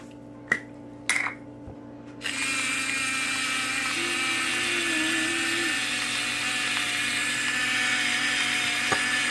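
Electric spice grinder grinding a small amount of anise seed into a bowl: a few sharp clicks and taps, then a loud, steady, high-pitched whirring drone that runs close and continuous to the end.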